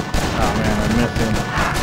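Grenade explosions in the PS4 game Tiny Troopers: Joint Ops, a dense rumbling burst of blasts and gunfire with game music, the player talking over it.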